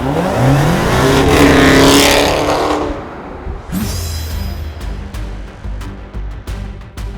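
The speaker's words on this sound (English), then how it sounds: "Its thunderous exhaust note strikes fear into the competition" Loud, thunderous exhaust roar of a Dodge Charger Hellcat accelerating hard close by, swelling then fading, followed by a rumbling idle with crackling pops.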